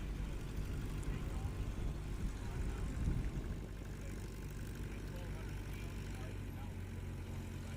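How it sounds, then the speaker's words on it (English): Rans S7 light aircraft landing at a STOL competition at Patriot Airpark, a steady propeller-engine drone at moderate distance that eases slightly partway through, with background noise. "Here comes James Johnson in the Rans S7."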